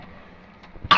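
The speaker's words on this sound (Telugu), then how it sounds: "గైస్ దగ్గు వస్తుంది ఇప్పుడు" A single short, sharp cough bursts out right at the end after a second of near-quiet room tone.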